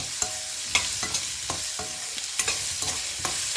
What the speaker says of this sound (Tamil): கலர் டிரான்ஸ்பரண்ட் ஆகிற வரைக்கும் நம்ம இதை வதக்கிக்கலாம்